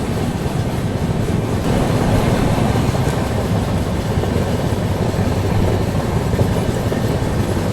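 Sarvodaya Express passenger train running on the main line, heard from aboard as a steady, loud rumble of wheels and carriage noise with faint rhythmic clatter throughout.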